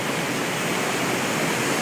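A waterfall at Mount Rainier National Park roars as a steady, dense broadband rush of falling water, close and continuous with no pauses and no voices.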